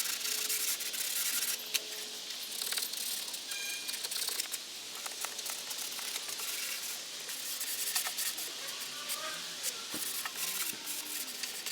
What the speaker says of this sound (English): I got a sponge foam sander. So again, this is 220.